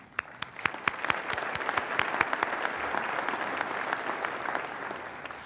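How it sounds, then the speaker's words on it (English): A civic audience at a city address applauds an advisory board with sustained, even clapping, crisp individual claps standing out from the wash of many hands. "Please join me in giving them a round of applause."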